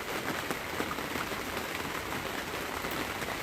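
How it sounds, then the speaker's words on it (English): Steady rain falls outdoors on a cold day near a snowblower, a dense even hiss of drops on surfaces with no pauses and no voices. "This rain is going to turn to snow pretty soon."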